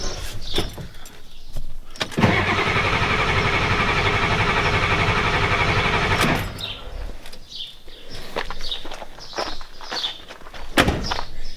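The starter cranks a 1993 Ford F-250 with a 7.3 IDI diesel in one steady, loud, whirring run of about four seconds, with clicks and handling noises before and after it.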